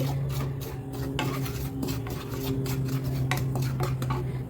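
Ragi flour roasts in a pan for ragi upma, with continuous dry scraping and rasping from a spatula and light metallic clinks of the utensil against the pan. A steady low hum runs underneath.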